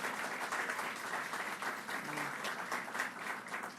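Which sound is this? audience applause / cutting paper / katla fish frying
audience applause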